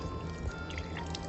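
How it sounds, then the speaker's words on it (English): Water starting to flow out of a well pipe in winter, a steady close pouring and gushing rush with faint trickling over a low hum. "water is starting to come out. So that's a good sign."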